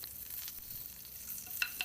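Curry leaves fry in hot oil with mustard seeds in a pan, a quiet steady sizzle with a couple of sharper crackles toward the end.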